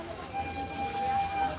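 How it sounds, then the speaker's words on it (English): A train rolls past at Disney's Animal Kingdom, a steady low rumble with a faint sustained whistle-like tone running through the middle, heard at a moderate distance amid park ambience. "You can also hear the train going by."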